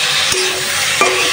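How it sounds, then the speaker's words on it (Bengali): Snake gourd and shrimp stir-frying in a pan, a loud steady sizzle with two sharp utensil knocks against the pan. "আস্তে আস্তে ভাজিটা করে নিই।"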